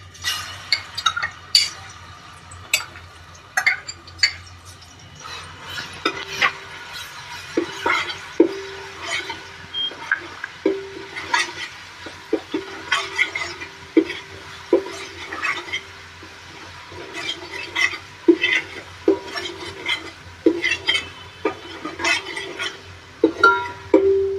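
Ginger and garlic are stirred into hot oil in a pan for a Ravas fish curry, with repeated clinks and scrapes of a utensil against the pan over a soft sizzle.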